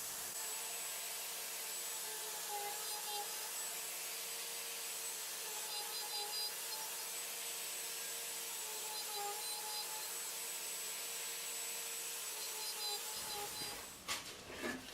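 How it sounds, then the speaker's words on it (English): A mortising machine cutting rows of mortises side by side in wood gives a continuous whirring, rasping drone with a faint high whine, steady for about thirteen seconds before it stops and a few clunks follow. "my favorite type of joint with this machine has to be putting lots and lots of mortises side by side."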